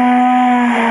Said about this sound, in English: it would have made a low horn sound